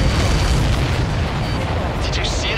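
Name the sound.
explosion in video game Ace Combat 7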